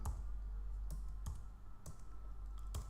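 Several sharp key clicks on a Mac computer keyboard, spaced irregularly across a few seconds, the last press like hitting enter, close and clear over a low steady hum with no talking.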